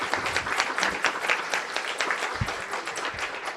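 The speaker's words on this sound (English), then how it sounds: "A round of applause, please," An audience at a talk by a British ambassador formerly posted to North Korea bursts into applause, a dense, continuous patter of many hands clapping in a hall that carries on without pause.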